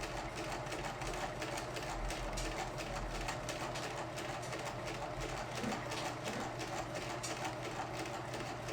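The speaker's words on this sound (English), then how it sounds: "Start sewing really slowly, and keep your finger on here and guide it between the center and the edge of the pressure foot" A sewing machine stitches a fabric mask at slow speed, giving a steady, even mechanical hum with a fine rapid needle rhythm. It runs close and alone, with no talking.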